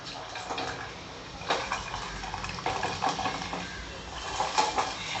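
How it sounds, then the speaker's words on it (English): Pressure-cooked dal being whisked smooth with a hand whisk, giving steady wet sloshing and scraping at close range, with brief clinks against the vessel and no talking. "Now with this ravi or with a whisker,"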